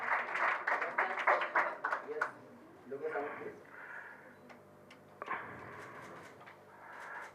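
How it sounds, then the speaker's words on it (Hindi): Audience applause at a scholarship award ceremony for top-ranking female BTech students, heard as a clear burst of clapping at the start that fades under talk, with later softer patches of sound among voices. "आइए सर, इनके लिए थोड़ी तालियां अतिरिक्त दीजिए।"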